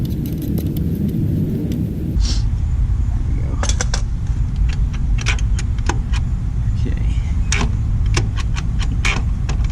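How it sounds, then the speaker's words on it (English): Gear shift lever worked up and down on a 2017 Triumph Daytona 675R fitted with aftermarket rearsets, giving a series of sharp metallic clicks and clunks close by over a steady low background hum. "Now I'm upshifting, now I'm downshifting. There's first, and there's neutral."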